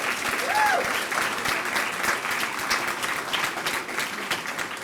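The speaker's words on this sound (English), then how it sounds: "Let's give Key Elementary a round of applause." An audience applauds at a Key Elementary school 50th anniversary event, a steady wash of clapping that carries on for about five seconds at moderate loudness, with a faint voice over it.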